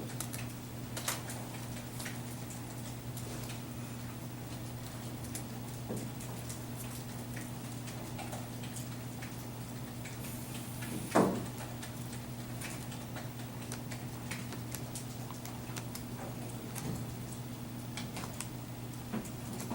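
Scattered soft key presses tap on a graphing calculator during data entry, faint and irregular over a steady electrical hum, with one sharper knock partway through.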